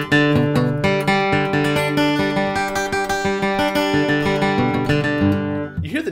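Guitar flatpicked with a tense picking hand: a steady, even run of bright, ringing picked notes played alone, with the last notes sustaining briefly before a final pluck.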